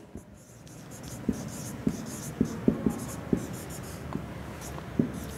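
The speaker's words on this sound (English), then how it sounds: "Now I will write the next part" Chalk or marker taps and short strokes on a board during a primary-school computer class, a series of crisp separate knocks over a soft room hiss.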